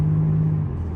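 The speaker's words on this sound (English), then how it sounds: "Just driving around in a car, a nice luxury vehicle." A Maserati MC20 sports car cruises on a scenic drive uptown, giving a low steady engine and road rumble heard from inside the cabin for about a second, with a faint hum settling lower near the end.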